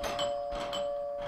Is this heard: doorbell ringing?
yes